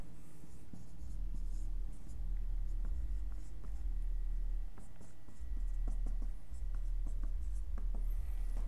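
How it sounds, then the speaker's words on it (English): Handwriting on a board during a maths lecture, with steady scratchy strokes repeating close by and continuous low room noise underneath, with no talking. "So let me write that down."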